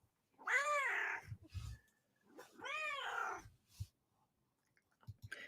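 A talkative pet cat meows twice, long drawn-out calls close by, separated by a pause, with faint soft noises between them.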